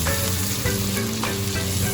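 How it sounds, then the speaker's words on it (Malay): Mackerel fish frying in a pan, a steady close sizzle and crackle of hot oil with faint stirring, continuous and loud throughout, no voices. "Mula-mula kita goreng ikan terlebih dahulu"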